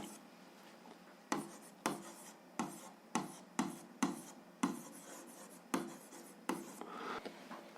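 A pen or pencil writes out an algebra exercise on paper at close range, making a series of short, distinct scratching strokes at an uneven rhythm, each followed by a quiet pause, with no voices.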